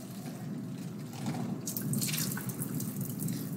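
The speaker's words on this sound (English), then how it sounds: "dump this out and rinse my egg off and rinse my cup out." Tap water runs into a sink as an egg and a cup are rinsed under it, a steady close splashing that brightens and grows louder halfway through.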